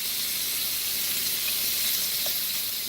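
Shrimp laid flat in a very hot skillet with garlic fry with a steady, bright sizzle and hiss, close and constant throughout with no talk over it.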